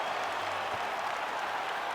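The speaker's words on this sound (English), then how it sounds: "Stand and cheer, ladies and gentlemen." A crowd in the UFC 5 video game applauds and cheers after a five-round welterweight fight, a steady broad wash of clapping at moderate level with no speech over it.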